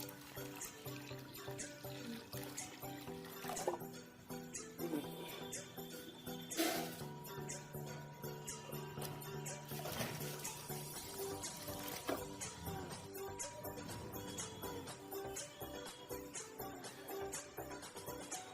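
Water is poured over potted plants, giving light, intermittent trickles and splashes at moderate distance under a continuous tonal background, with no speech.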